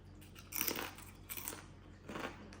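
Crunchy, chicharrón-like food is bitten and chewed up close, with three loud crunching bursts spaced about a second apart over a quiet background.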